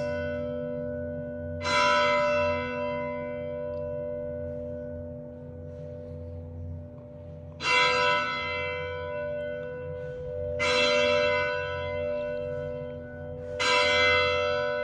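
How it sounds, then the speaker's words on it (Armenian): Church bells of Our Lady of Zmmar monastery in Lebanon toll four separate times, each strike ringing out bright and then decaying slowly over a steady low hum, with no voices. "Թող եկեղեցու զանգերը հողանչեն մշտապես"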